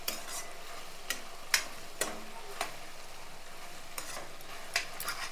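Onions, green chillies and curry leaves frying in a pan make a soft, steady sizzle, with a few brief clicks and scrapes at irregular intervals; no one speaks.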